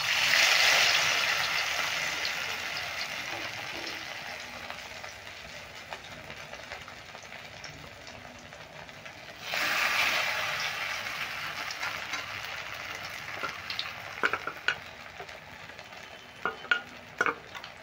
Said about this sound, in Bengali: আর ভেজে নেব। কড়াইয়ের তেলে আমি দিয়ে দিচ্ছি।